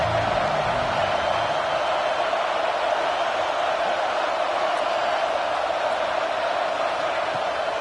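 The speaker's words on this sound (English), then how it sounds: "Decibels rising as the crowd gets behind this defense on 3rd down." Steady, dense roar from a college football stadium crowd on a third down, loud and continuous throughout with no clear individual voices.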